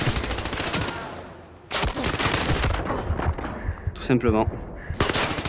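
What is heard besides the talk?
gunfire in the VR video game Zero Caliber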